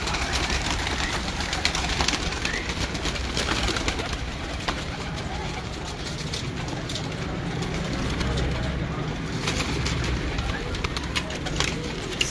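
Breeder pigeons coo continuously in a loft, with overlapping soft throaty calls close by and a steady low engine-like rumble and background murmur beneath.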